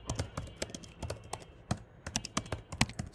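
Terminal command typed on a computer keyboard: quick, close key taps in an uneven flurry with a few heavier strokes, no talking.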